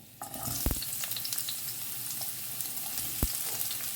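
Roughly chopped onions fry in oil in a pan with a strong, steady sizzle, broken by a couple of sharp spoon knocks against the pan.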